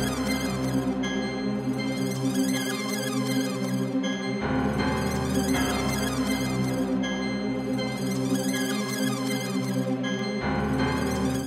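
Piano melody in a Chicago drill beat made in FL Studio, repeating in sections that switch between the forward phrase and a reversed version with swelling, backward attacks, steady and loud throughout.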